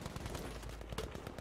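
A rocket fired in a video game, heard as a quick burst of sharp blasts, fairly faint and compressed, with no speech over it.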